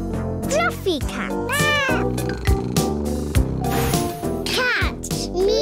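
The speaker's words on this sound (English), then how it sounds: "Cat. Meow." A cat gives several loud, close meows with rising and falling pitch, mixed in with lively music.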